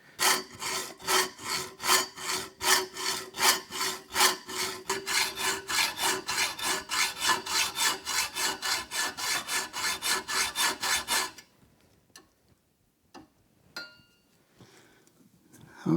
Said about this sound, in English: Not bad for a hand hacksaw.